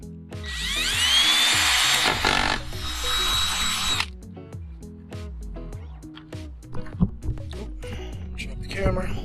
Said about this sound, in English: Let's drill the other ones.